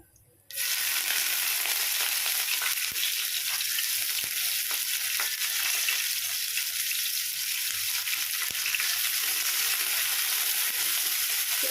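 Chopped onion hits hot oil already holding cumin and starts frying, bursting into a loud, steady, continuous sizzle that holds evenly after a brief quiet start.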